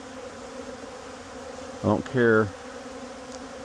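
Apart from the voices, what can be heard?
honey bees buzzing around a hive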